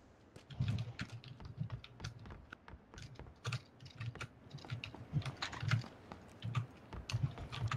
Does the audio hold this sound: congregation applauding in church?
no